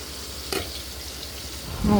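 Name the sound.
stirring ingredients into mung beans (nilagang munggo)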